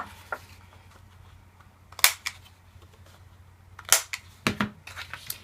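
A corner rounder punch clips the edges of paper or card for a mini album, giving a few sharp, close clicks and snaps in a quiet room, the loudest in pairs near the middle and end.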